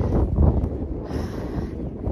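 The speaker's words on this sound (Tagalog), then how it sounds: "Malakas lagi ang hangin dito." Strong wind on Vancouver Island buffets the microphone in low, rumbling gusts, loudest near the start and then steadier, with no voices.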